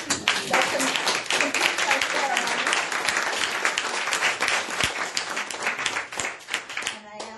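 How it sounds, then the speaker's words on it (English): An audience applauds steadily at a gathering welcoming new practitioners, with dense, sustained clapping that fills the room throughout and tapers slightly near the end. "So a round of applause."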